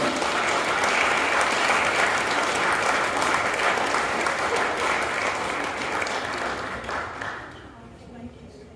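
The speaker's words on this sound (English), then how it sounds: "A big round of applause. Welcome them to the stage." Audience applause for award winners at the National Healthy Housing Awards 2023 ceremony: a dense, loud wash of many hands clapping that holds steady, then thins and fades out near the end.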